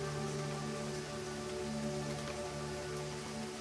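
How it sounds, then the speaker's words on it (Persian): Steady rain falls in an unbroken, even hiss, with soft droplet patter and a faint tonal hum underneath throughout. "بارون شروع به باریدن کنه"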